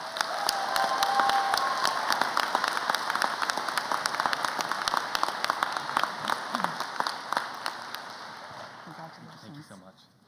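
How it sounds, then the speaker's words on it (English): Sustained applause from a large crowd at a high school graduation ceremony, steady dense clapping that gradually fades toward the end. "Would you please join me in a round of applause for this year's salutatorian"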